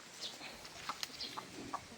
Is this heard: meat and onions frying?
no